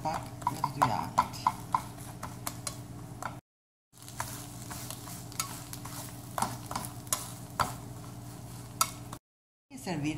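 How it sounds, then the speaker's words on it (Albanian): An omelette filled with egg, salami and cheese fries in a pan, giving a continuous soft sizzle with scattered light crackles and scraping, interrupted by two short silent gaps. "E lëmë sa të skuqet pak në të dyja anët."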